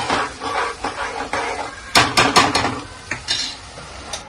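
Spiced chole masala fries in oil in a pan for chole bhature in a home kitchen, a soft continuous sizzle broken by loud metallic clanks and scrapes of a spoon against the pan.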